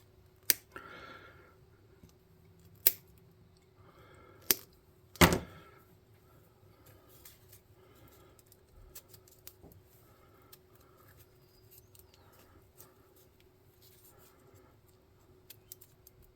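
Sharp, isolated snips of cutters clipping small plastic miniature figure parts off a sprue, a few crisp clicks early on spaced by quiet, then faint handling noises.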